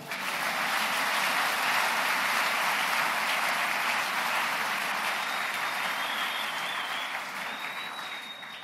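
A church congregation breaks into loud, sustained applause that fills the room, a dense wash of clapping that holds steady and then eases slightly toward the end.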